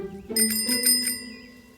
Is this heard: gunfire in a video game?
no